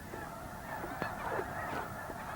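Geese crowded into a small wetland area honk repeatedly, a flock of nasal calls overlapping at moderate distance over a steady background murmur.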